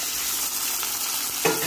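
Marinated liver frying in a pan, a dense, close hiss of sizzling oil with a single scraping stir near the end.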